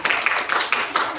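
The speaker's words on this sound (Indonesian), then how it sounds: "Ayo, beri tepuk tangan untuk teman-teman." Classroom clapping for classmates, a short close burst of quick claps with a few louder accents.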